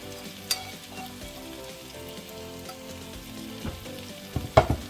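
Bacon and saltfish fry in a pan with a soft, steady sizzle, joined by occasional stirring clatters and a few sharp utensil knocks near the end, close and without talk.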